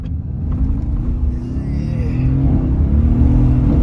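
A Mercedes-AMG car with a turbo pulls away, its engine rumbling low and steady and swelling slightly in loudness as it drives off close by.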